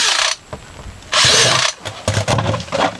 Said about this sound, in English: So we're going to drill some holes.